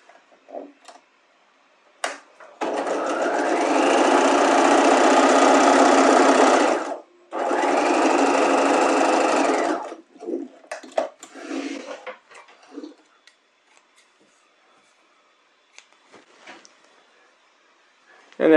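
A sewing machine runs two steady bursts while stay stitching a fabric edge a quarter inch in, with a brief pause between them, followed by light clicks and handling sounds.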